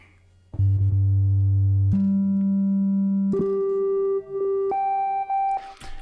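An analog synthesizer playing a dull triangle-wave tone with few overtones, stepping up through a rising sequence of sustained notes, each held about a second, clear and alone.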